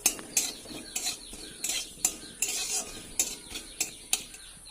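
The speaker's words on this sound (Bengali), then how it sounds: "জিরে আর শুকনো লঙ্কা আমি ভেজে নিয়েছি" Cumin and dried red chilies dry-roasted in an empty wok are stirred with a utensil, about ten sharp scraping strokes in a steady rhythm, close and fairly quiet, with a faint crackle between them.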